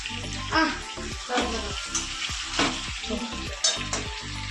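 Spices fry in hot oil in a pan while being stirred, giving a steady loud sizzle with rhythmic scraping strokes, and voices talk over the cooking throughout.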